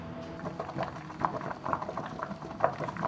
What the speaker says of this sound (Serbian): od momenta kada voda proključa kuvat ću 20 minuta